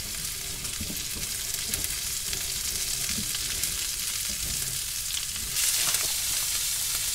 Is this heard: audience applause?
no